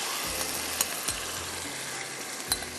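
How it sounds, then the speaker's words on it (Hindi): Reshmi chicken fries over a high flame in half a cup of cooking oil, giving a steady, dense sizzle with a few sharp clinks from stirring. "अब इसको मैं हाई फ्लेम पे करूँगी फ्राई"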